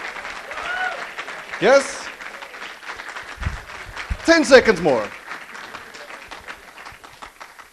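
Scattered audience clapping at a lightning talks session, crackling under a speaker's voice, with a brief louder burst partway through before thinning out.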